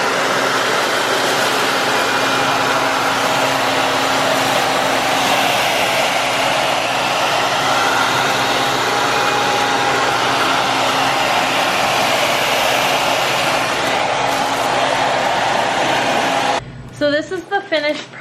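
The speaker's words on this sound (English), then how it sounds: "Make sure your hair dryer or heat gun is on high and high heat, and watch it shrink." Hair dryer running on high heat to shrink plastic wrap around a gift basket, a loud constant blowing roar held close for most of the span before cutting off near the end, where a voice briefly starts.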